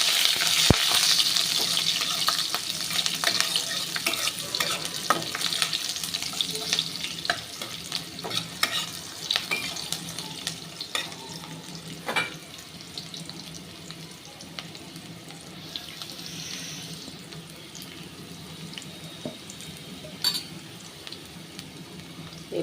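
Chopped onion frying with cumin in a hot pan while cooking a banana blossom curry: a steady, dense sizzle runs throughout, with occasional stirring scrapes and small crackles, close and fairly loud, with no talking.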